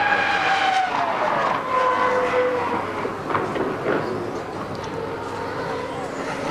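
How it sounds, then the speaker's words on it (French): A Formula 1 car laps Montreal's circuit during qualifying for the 2003 Canadian Grand Prix, its high engine whine rising and falling as it passes, moderately loud beneath a commentator speaking over it. "Alors, au tour de David Coulthard."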